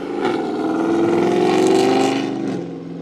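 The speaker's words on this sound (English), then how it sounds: "that loud car you just heard was a Charger." A loud Dodge Charger roars past on the street, its engine note swelling as it approaches and fading as it moves away, heard alone without talk.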